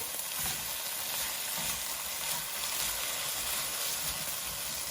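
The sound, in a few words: wooden spoon scraping browned bits off pot bottom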